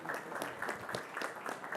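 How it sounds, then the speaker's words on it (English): A brief, moderately faint burst of audience clapping welcomes Chef Kunal Kapoor on stage at a live food awards event, with steady applause throughout. "A huge round of applause for"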